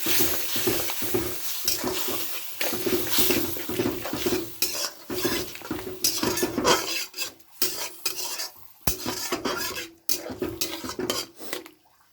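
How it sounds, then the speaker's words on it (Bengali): Spiced masala being stirred and fried down with a little water in a metal pan, with a cumin-powder addition: steady scraping and clinking of a spoon against the pan, loud and close, in busy rhythmic bursts with brief pauses. "ভালো করে কষিয়ে নিচ্ছি।"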